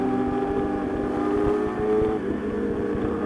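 Steady motorcycle engine drone from a rider's own bike on a daily city ride, a continuous near hum with a low rumble and slight shifts in pitch, no talking.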